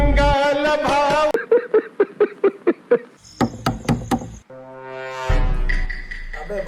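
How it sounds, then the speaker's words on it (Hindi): Someone knocks on a door at night, a quick run of about eight sharp raps, then a short burst of fast knocks. A horn-like tone and other synthetic sounds come before and after. "अबे भाई कोई दरवाजा खटखटा रहा है यार।"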